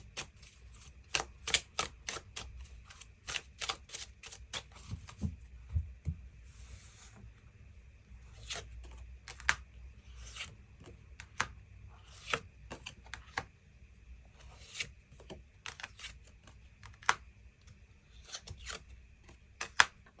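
Tarot cards being drawn and handled, with rapid crisp card snaps and flicks in irregular bursts over a quiet room background.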